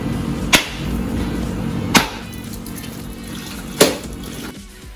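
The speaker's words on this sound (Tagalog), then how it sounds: "niyog na kinuha namin dito sa puno namin. Bibiyakin na natin." Three sharp, heavy chopping blows split a fresh coconut, spaced well apart over a wet, hissing background of liquid.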